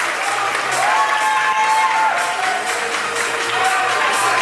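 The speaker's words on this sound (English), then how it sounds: "Audience members, a round of applause for your physique competitors." Audience applause and crowd noise at a bodybuilding physique competition, steady and loud throughout, with a few whoops and cheers rising over the clapping.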